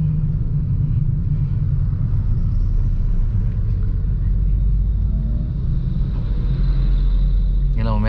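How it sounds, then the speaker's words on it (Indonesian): Car engine rumbling steadily as the clutch is released and the gas pressed when pulling away from a red light, a loud continuous low drone heard from inside the vehicle. "pakai angkat kopling dan injak gas ya, biar tidak mati mesinnya"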